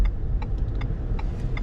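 A 2021 Ford F-150 XLT Sport with the 2.7 engine hums steadily from inside the cab as it drives, a low continuous drone with a few faint ticking clicks on top and no talking.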